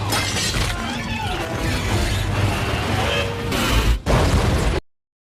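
A loud explosion from a war film scene where a man blows himself up as a creature approaches, a dense roaring blast with shattering debris that cuts off abruptly and then bursts again before silence.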